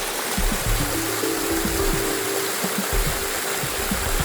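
Rushing water at Risang waterfall in Khagrachari, with low winter flow, forms a steady broadband wash that runs throughout, with a few faint low thuds and rumbles mixed in.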